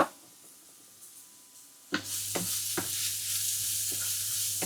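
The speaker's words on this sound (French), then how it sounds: "Masukkan lada ke dalam kualinya tadi yang udah dislowkan kita api ya" Peppers drop into a wok over lowered heat, a sudden loud sizzle breaking out after a quiet start, then a steady frying hiss with several stirring scrapes.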